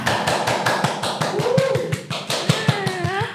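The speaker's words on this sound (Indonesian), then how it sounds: "Tepuk tangan dong." A small group claps hands in a steady, fairly quick rhythm, close and distinct, while voices talk and exclaim over the beat.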